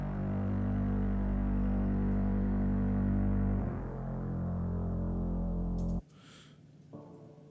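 A dark, sustained Hellstrings synth pad from UVI Falcon's Cinematic Shades library drones with a low humming throb, shifting partway through before cutting off into a quieter, thinner tail.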